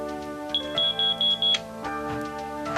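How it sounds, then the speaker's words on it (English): A newly installed home smoke detector being tested sounds a series of loud, shrill electronic beeps in an even pulsing rhythm, close to the microphone, then stops, leaving low room tone. "I just installed another smoke detector. Now test it."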